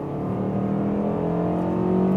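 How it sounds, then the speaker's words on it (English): Naturally aspirated engine of a compact SUV revving hard under acceleration from about 60 to 80 km/h, a steady rising drone with climbing pitch, loud and continuous with no talking. "you hear this naturally aspirated engine, really going in the RPMs"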